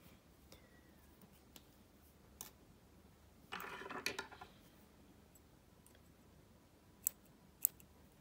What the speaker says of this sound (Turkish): Makasla kestim.